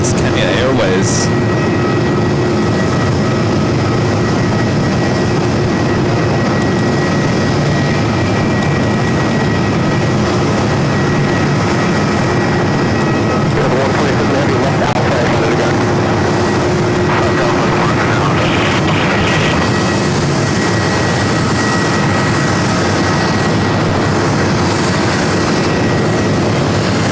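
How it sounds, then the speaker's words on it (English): A Kenya Airways Boeing 787-8 Dreamliner departs from JFK, a loud, sustained broadband jet roar with a low rumble and steady tonal whine that persists throughout, while people talk over it. "Of Africa. It's a 787-8 Dreamliner."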